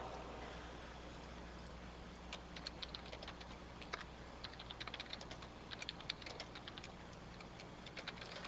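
A computer keyboard is typed on in quick, irregular bursts of faint clicks over a steady background hum, with keystrokes clustering in the middle of the stretch.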